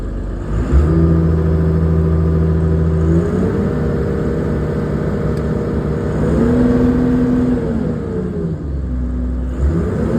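Excavator engine running at idle during throttle repair work, a steady, loud droning hum with tonal whine shifting slightly in pitch a few times, continuous and close, no talking.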